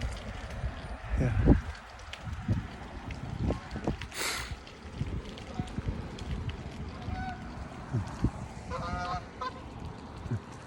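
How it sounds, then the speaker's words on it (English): Two geese honking, a few scattered calls rising over a steady outdoor murmur near water, moderately close and loud, with soft background noise between the honks. "Two geese."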